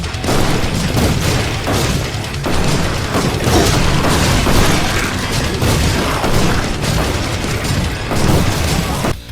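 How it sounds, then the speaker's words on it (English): Grenade launcher and rocket launcher blasts in the gory shooter Bloodkill, a loud, continuous barrage of booms and bursts overlapping for the whole stretch, with mechanical clatter between the explosions. "great explosive weapons here, like the grenade launcher and rocket launcher"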